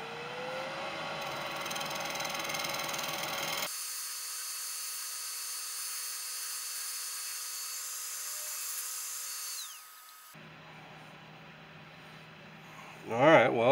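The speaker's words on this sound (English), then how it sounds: "Let's do some final shaping. Scraping, I should say." A black cherry bowl being scraped to final shape on a lathe gives a steady whirring hum with a tonal whine that shifts partway through, ending with a louder burst of scraping.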